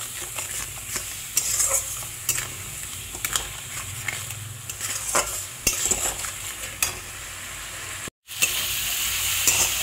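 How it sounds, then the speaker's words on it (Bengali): Spice paste for shol fish curry sautéing over a high gas flame with a little water, a steady hiss and sizzle punctuated by frequent sharp scraping stirs, near and uninterrupted by speech. "দিয়ে ভালো করে সব কষিয়ে নিতে হবে গ্যাসের ফ্লেমটাকে বাড়িয়ে"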